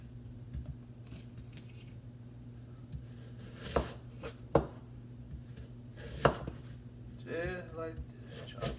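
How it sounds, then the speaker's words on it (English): Knife chopping a whole apple into rough chunks on a cutting board, a few sharp irregular cuts standing out over a steady low hum, with quiet handling noises between them. "chop my apple up just like this"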